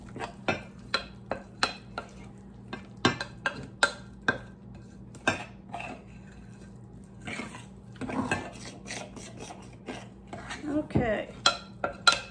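A spoon scrapes and taps around a bowl of zucchini bread batter, a steady run of sharp clinks and knocks at a mixing rhythm, with softer stirring scrapes between and faint voices low in the background.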